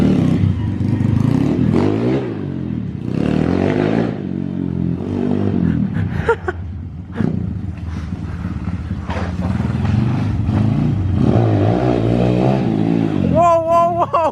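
A motorcycle revs hard as it lifts into a wheelie, a loud sustained engine roar with clattering, while excited voices talk over it and a brief whistle-like tone rises near the end.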